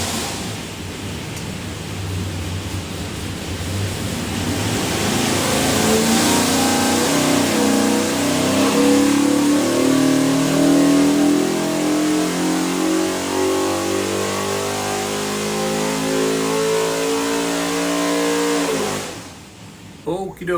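A 565-horsepower 363 cubic inch small block Ford with a solid roller cam revs hard on a dyno, a loud, sustained engine roar that climbs steadily in pitch toward 7,000 RPM before cutting off abruptly near the end.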